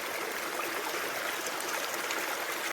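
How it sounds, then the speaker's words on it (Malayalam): A gurgling stream flows steadily through the countryside, its babbling and trickling water heard up close and unbroken, with no voices over it. "വെള്ളം ഒഴുകി പോകുന്നതിന്റെ കളകളാരവത്തിലേക്ക് കേട്ടോ"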